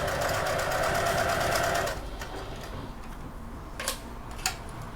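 A domestic sewing machine stitches a fabric wallet with a swivel clasp, whirring steadily and loudly up close for about two seconds, then stops, leaving a couple of sharp mechanical clicks and handling noises.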